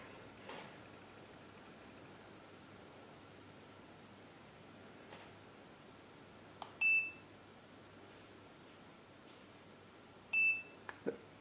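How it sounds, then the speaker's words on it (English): A BabyWombWorld nanny camera gives two short, faint electronic beeps a few seconds apart, signalling it is ready to connect, over a quiet room hiss. "There you can hear the beeping sound. That indicates that the camera is now ready to be connected."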